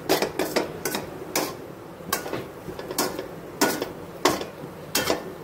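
Spoon scraping and clinking against a pot while brown rice is mixed with ghee, a series of sharp metallic taps and scrapes at an irregular rhythm, close and fairly loud with no talking.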